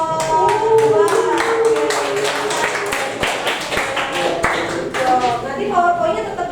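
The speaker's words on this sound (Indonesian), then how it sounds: "Oke, tepuk tangan nih buat kelompok 2" Classroom students clapping for group 2 after their presentation, a brisk patter of claps mixed with talking voices throughout.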